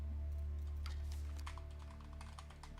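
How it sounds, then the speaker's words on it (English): Light clicking taps on a computer keyboard, quiet and irregular, rising and falling in small clusters over a steady low electrical hum, with no voices. "Wait, is my keyboard that loud?"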